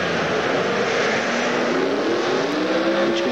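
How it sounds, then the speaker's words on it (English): A 1993 four-wheel drive Isuzu Rodeo with a 175 horsepower 24-valve V6 engine roars steadily and loudly, a dense engine drone with slowly rising tones and no speech. "the 1993 four-wheel drive Isuzu Rodeo features a new 175 horsepower 24-valve V6 engine"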